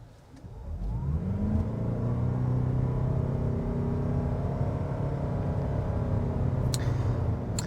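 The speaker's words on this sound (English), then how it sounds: "We'll just do a quick little acceleration run here, but not full throttle." A 2025 Toyota RAV4 Hybrid in sport mode accelerating at half throttle, a steady mid-pitched engine and drivetrain hum rising smoothly in pitch, heard from inside the cabin and fairly quiet.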